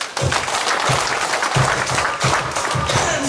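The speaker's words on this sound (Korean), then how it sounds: "박수!" A children's church revival audience applauds, many small hands clapping in a full, steady burst that stays loud and even from start to finish.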